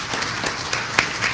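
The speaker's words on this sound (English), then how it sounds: "Please give them a round of applause" Brief applause from a meeting audience welcoming board members, a short patter of claps at moderate level.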